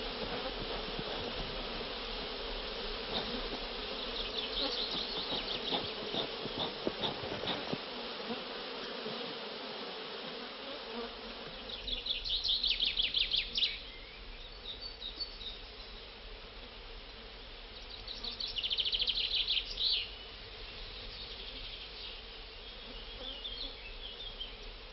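Honeybees hum and buzz steadily around a beehive in a French garden, a dense continuous drone with louder swells as bees pass close, and no voices.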